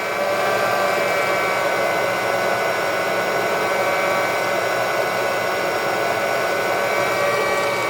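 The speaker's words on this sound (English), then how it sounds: "you're going to hear a sound popping. That's called first crack." An SR500 home roaster blows a steady, loud rush of hot air for the whole stretch while coffee beans reach first crack, the faint popping and snapping largely buried under the constant fan roar.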